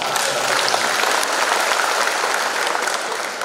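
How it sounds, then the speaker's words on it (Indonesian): An audience breaks into dense, sustained applause at a family Eid al-Fitr gathering, the clapping loud and even before tapering slightly at the end. "Tepuk tangan untuk"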